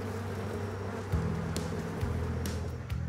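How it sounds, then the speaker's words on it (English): Steady, close buzzing of honey bees droning around a hive, a continuous hum with slight shifts in pitch and no voices. "They got working bees that just bring in wax, build up the comb."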